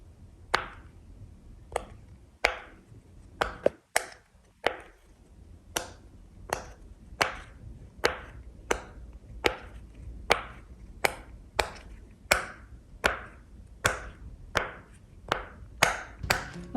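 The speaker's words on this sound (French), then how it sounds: "j'adore ces petits pop-it et je vais jouer encore pendant un petit 5 minutes" Pop-it fidget toy bubbles popped one at a time, crisp close snaps at a steady unhurried rhythm, about twenty pops with quiet gaps between, no talking.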